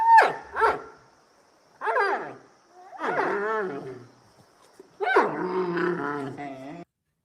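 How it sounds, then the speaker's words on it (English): Dog growling and barking in separate bursts, from sharp yips to a longer rough rumbling growl, with gaps of silence between them, close and clear. "That's a dog, yo."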